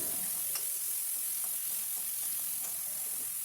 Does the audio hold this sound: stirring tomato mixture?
yes